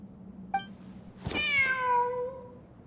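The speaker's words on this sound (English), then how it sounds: "Wait, there it is! The cat!" A cat meows once in the video game Genshin Impact, a long, drawn-out call with a rising then falling tone, clear and close over a low steady background hum, preceded by a short faint chirp.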